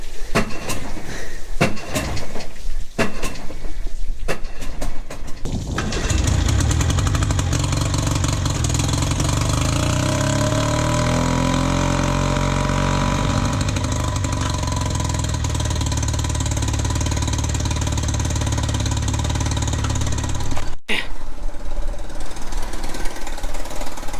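Old outboard engine on a cheap pontoon boat being cranked after priming, a few sputtering tries and then catching into a loud, steady idle running close by, briefly cutting out near the end before resuming.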